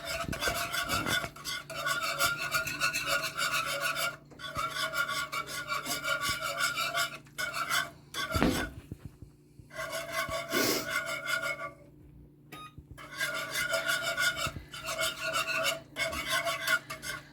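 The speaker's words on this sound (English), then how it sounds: "We're going to whisk this around" A whisk scraping rapidly around a bowl, mixing ingredients for a Hello Fresh meal kit recipe, in steady rasping bursts separated by short pauses, close and fairly loud with no talking.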